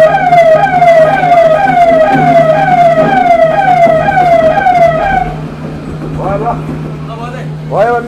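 A large ambulance siren wails close by in rapid, repeating falling sweeps for about five seconds, then cuts off. Voices talk over a steady engine hum afterward.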